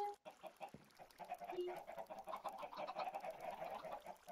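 Chickens clucking inside a video game, a busy run of overlapping clucks and squawks that carries steadily through the whole stretch with no talking.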